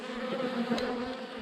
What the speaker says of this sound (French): on est encore sur les vieilles abeilles casse-bonbons